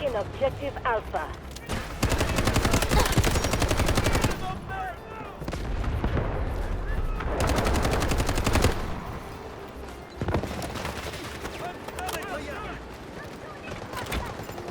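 Gunfire in a Delta Force warfare-mode video game, fired from a newly bought gun, comes as repeated automatic bursts and scattered shots, loud and dense, with a voice talking throughout.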